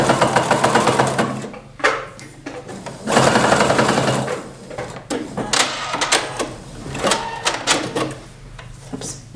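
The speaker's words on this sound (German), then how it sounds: "und dehne es beim Nähen." A domestic sewing machine stitches a blouse hem while elastic band is stretched, loud rapid needle chatter in several bursts separated by short pauses.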